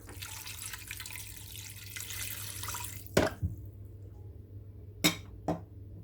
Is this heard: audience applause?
no